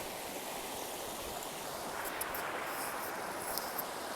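A stream on the Appalachian Trail in Vermont rushes steadily at a water crossing, a soft, even wash of flowing water with faint higher splashes and trickles over rocks.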